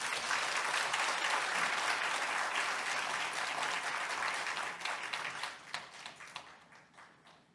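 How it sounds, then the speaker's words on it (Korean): A church congregation gives a missionary from Vietnam a warm round of applause, thick and sustained at first before gradually thinning to a few scattered claps as it fades out. "우리 유명주 선교사님을 박수로 환영해 주시기 바랍니다."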